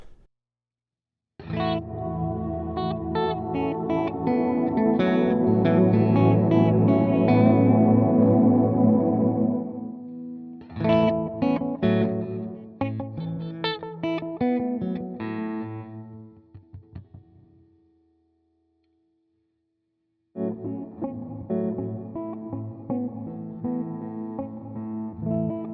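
Electric guitar run through a Walrus Audio Qi Etherealizer pedal, chords and notes ringing with a wet modulated shimmer and echo, one note swelling and fading alone before a quieter passage resumes after a pause.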